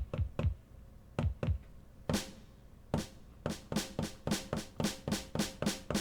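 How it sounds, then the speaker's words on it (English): Sharp hits on a Donner Starrypad drum pad controller with a long reverb effect tail, first sparse and irregular, then a steady run of evenly spaced hits, each ringing out and decaying. "There's the reverb."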